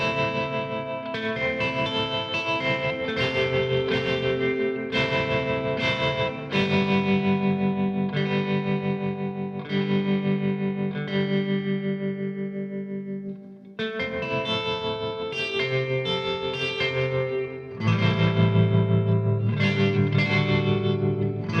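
A Vox AC15 guitar amp runs through an out-of-phase analog cab simulator with spring reverb and tremolo. It plays loud, steady strummed chords that ring on continuously, with one brief dip partway through.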